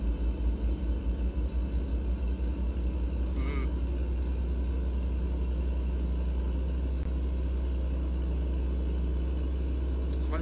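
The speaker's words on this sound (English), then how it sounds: "My truck is constantly vibrating back and forth." Truck engine in American Truck Simulator, a steady loud low rumble with a pulsing throb at the start, continuous and close, with a couple of faint brief clicks.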